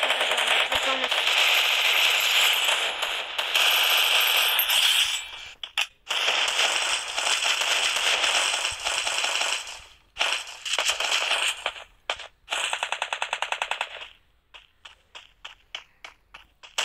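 In a video game, an MP40 submachine gun fires in dense rapid bursts with short pauses between them, loud and close. It ends in sparse single shots.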